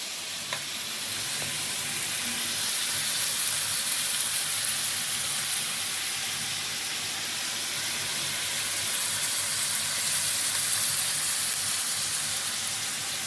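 Onions frying in a pan give a steady, loud, close sizzle that hisses evenly throughout with no pauses and no talking.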